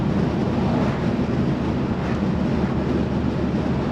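A hot rod Squarebody truck's engine roars in a loud, steady, unbroken drone with a heavy low rumble, held close for the whole stretch with no talking.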